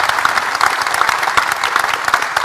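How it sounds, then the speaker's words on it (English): Audience at an evening research event in a university building in Auckland claps steadily for about two and a half seconds, a dense, close burst of many hands with no voices over it. "So please, another big round of applause to say thank you so much."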